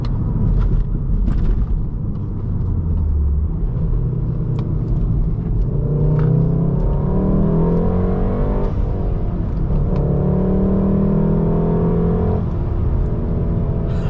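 The engine of a 2019 Volkswagen Golf R six-speed manual hot hatch drones steadily from inside the cabin, with rising revs under acceleration, a brief dip at a gear change, then climbing again.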